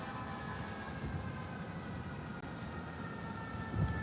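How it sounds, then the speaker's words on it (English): Ambulance sirens wail through city streets, a sustained tone that stays fairly faint and distant over a low rumble of traffic, with no talking. "Do you hear these ambulances?"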